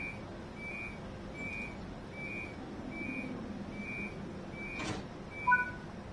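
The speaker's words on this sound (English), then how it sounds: "let's see the doors close," Train doors close on an Austrian passenger train in the Train Sim World 4 game, with repeated evenly spaced warning beeps, then a short hissing swoosh and a soft thud as the doors shut, all fairly faint.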